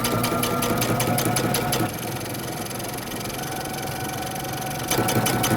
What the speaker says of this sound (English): we're going to top stitch close to the edge